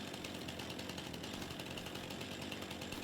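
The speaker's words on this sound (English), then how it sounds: "I only bought this chainsaw for this purpose, is just to do deadwood contracts" A chainsaw in Farming Simulator 25 cuts through deadwood trees, giving a steady, loud buzzing whine that holds without a break for about three seconds, with no talk over it.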